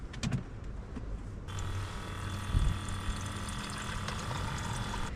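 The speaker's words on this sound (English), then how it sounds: "And now I've got some water in the kettle." Water pouring into a kettle in the back of a truck bed while camping in winter, starting with a few clunks and then a steady, fairly faint rushing fill that runs to the end, with no voices.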